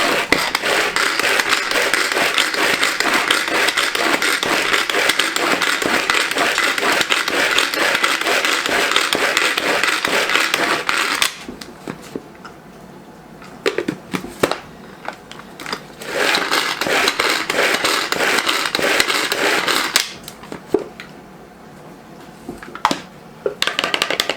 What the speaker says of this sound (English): I'm going to whiz up my parsley right quick.